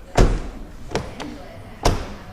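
A car's front door without its trim card, partly sound-deadened, is shut three times. Each close gives a close, boomy thud, the first loudest, with a faint rattle after the second.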